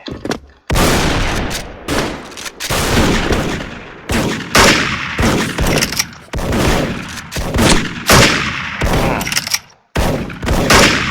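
FR-F2 rifle gunshots crack in rapid, closely spaced bursts in the Special Force shooter game, loud and near, broken by a couple of brief pauses.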